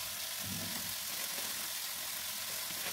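Chinese cabbage frying in a pan for vegetable spring rolls gives a steady, close hiss and crackle that holds evenly throughout, with no one talking.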